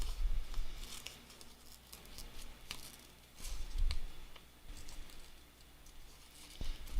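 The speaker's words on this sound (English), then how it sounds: "So I'm just doing kind of a modified fussy cut" Scissors snip through paper in a loose fussy cut around a shape, leaving a small border, giving a run of close, crisp snips and light ticks at an uneven pace, with a few louder cuts standing out.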